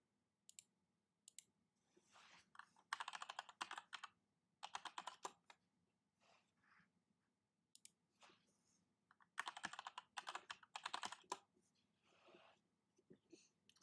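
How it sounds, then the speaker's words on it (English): Keys clatter on a computer keyboard in quiet, close bursts of rapid typing with short pauses between them, and soft whispering can be heard at times. "Only gonna do keyboard sounds."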